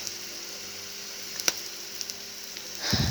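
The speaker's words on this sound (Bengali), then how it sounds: "দিয়ে দেবো চেরা কাঁচামরিচ, এটাও আমি একটু তেলের সঙ্গে ভেজে নেব।" Slit green chilies fry in oil alongside browned onions for chicken roast, a faint, steady hiss with a few small pops and a louder burst of sizzling near the end.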